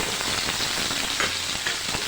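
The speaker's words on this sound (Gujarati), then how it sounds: "અને આપણે તેલમાં આ પનીરને" Paneer cubes fry in a spoonful of hot oil, giving a steady, close, even sizzle and crackle with no voices.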